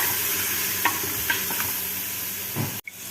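Rice frying with crushed garlic in a pot for kabsa, a steady loud sizzle with a few scrapes of stirring, ending in a sudden sharp break.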